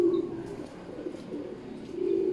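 Racing pigeons cooing at a loft, soft low repeated coos close by over a quiet background, with no speech.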